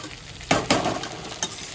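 Bharta with green chillies and coriander stirred and fried in a pan over raised heat: a soft sizzle under a few quick scraping stirs, close and brief.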